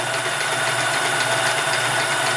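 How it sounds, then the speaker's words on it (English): A Sears Kenmore 158 series sewing machine runs continuously with a fast, even mechanical whir and rapid needle clatter, close and steady throughout. "I'm going to run this right to the edge."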